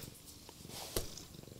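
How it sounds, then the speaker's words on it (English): An elderly toothless cat that has lost weight purrs softly and close, a faint rough rumble throughout with small handling noises. "don't know if you can hear him, but he's purring"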